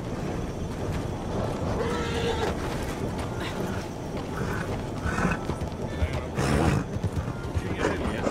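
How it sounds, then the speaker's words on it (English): A horse neighs and its hooves clop in the western video game Red Dead Redemption 2, mixed with mechanical clicks and a busy ambient bed, at moderate level with faint voices underneath. "Is that your horse?"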